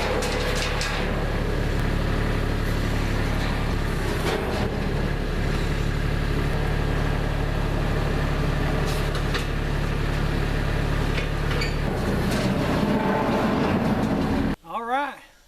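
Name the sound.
tractor engine pulling axles out from a sawmill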